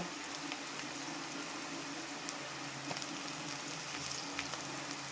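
Chopped garlic and ginger frying in oil make a soft, steady sizzle with light crackles, fairly quiet and continuous, with no talk.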